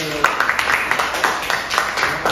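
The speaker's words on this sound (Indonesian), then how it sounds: "Baik, tepuk tangan." Scattered hand claps from a small group in a school counselling role-play session, uneven bursts close by with voices talking over them.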